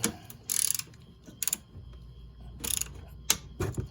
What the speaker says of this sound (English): So we can get our ratchet on there.